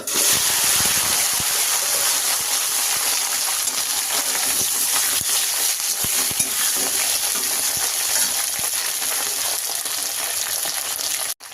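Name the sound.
okra frying in hot oil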